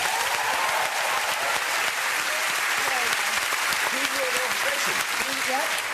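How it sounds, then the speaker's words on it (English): A studio audience at a television talk show breaks into steady, dense applause, a continuous broadband clatter of many hands with a few faint voices mixed in underneath. "a round of applause for Stephen O'Remus, who's on the piano over there"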